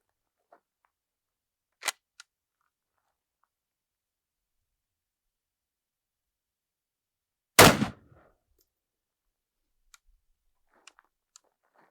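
A single loud, sharp shot from an old semi-automatic rifle firing one .308 150-grain open-tip match round at body armour outdoors, heard alone after faint clicks, followed by silence.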